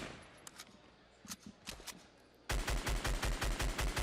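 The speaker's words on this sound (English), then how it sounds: "Even when he's shooting just the assault rifle." Rapid bursts of assault rifle fire in the Fortnite video game, a quieter scattering of shots giving way to loud, steady automatic fire with a regular rhythm, close by and without talk.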